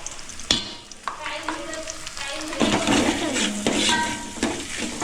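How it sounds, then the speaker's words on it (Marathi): Masala with turmeric, garam masala and coriander powder sautéing in a pan, with close spoon strokes scraping and clinking against the metal over a steady sizzle. "थोडंसं त्याला परतून घेते."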